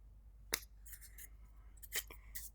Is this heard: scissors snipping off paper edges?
yes